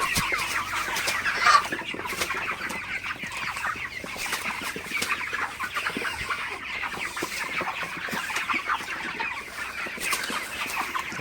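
A crowd of 36-day-old broiler chickens clucks continuously at night, a dense, steady chatter of many birds close by with no voices.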